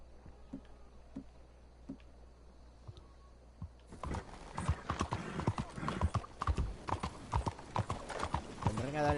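Horse hooves clip-clopping in Red Dead Redemption, steady hoofbeats at close range that grow louder and busier midway, with a whinny or two and someone talking over the top.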